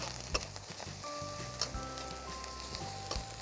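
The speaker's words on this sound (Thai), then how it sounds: "ตามด้วยข้าวสวย ท่านผู้ชมครับค่อยๆคลุกเคล้าผัดไฟอ่อนๆ" Rice being stir-fried with catfish on low heat in a pan, a steady close sizzle with scraping stirs and occasional clinks, background music tones running underneath, no talking.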